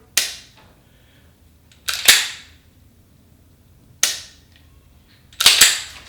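Dry-firing the 4-pound trigger of an STI Staccato C2 9mm handgun gives four sharp, crisp clicks spaced about two seconds apart, some doubled as the slide or trigger resets, close and clear with no talk.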